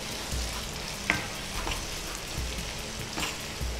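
Tomatoes fry in a pan, giving a steady close sizzle and crackle with a few sharper pops, no voices over it.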